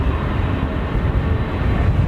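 A KLM airliner at London Heathrow Airport rumbles steadily with a broad, low engine roar, loud and continuous and heard without voices.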